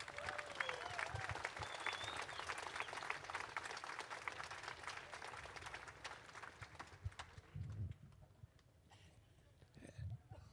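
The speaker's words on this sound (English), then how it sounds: "So big round of applause one more time." A crowd claps and cheers in a sustained round of applause that gradually thins out toward the end.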